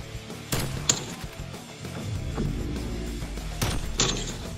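A sniper rifle in Call of Duty Cold War fires a few sharp, separate cracks spaced across a quiet stretch, each shot standing out clearly over low background game ambience.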